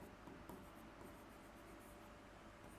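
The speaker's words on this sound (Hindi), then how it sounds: "देखो थोड़ा पतला करते हैं इस पेन को। आइए, क्या लिखेंगे?" A pen scratches steadily across a surface during an English grammar lesson on conjunctions, a soft continuous scraping with a few brief stroke accents, close and faint, with no talk over it.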